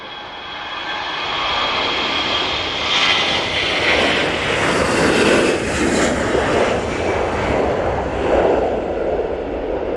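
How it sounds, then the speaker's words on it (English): A Virgin airliner landing at Manchester Airport, loud sustained jet engine roar rising and swelling through touchdown, heard at close range with strong wind-like rumble and no speech. "beautiful landing, and you can see that they took the crab angle off that as soon as they touched down"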